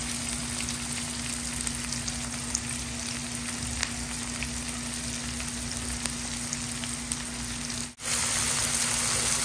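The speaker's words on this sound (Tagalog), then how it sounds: "Gisa-gisa lang po natin." Garlic, onion and ginger are sautéed in a pan, giving a constant close sizzle with faint crackles and a low hum underneath, briefly dipping once near the end.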